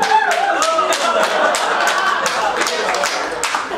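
Audience clapping at a dinner-show concert celebrating a singer's second album, sharp distinct claps over a sustained crowd wash, loud and close, continuing for several seconds.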